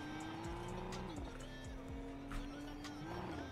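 A Skyline car with a turbo drives in the Fortnite video game, its engine holding a steady droning tone with slight pitch shifts and tire squeal, heard at close range and with no one talking.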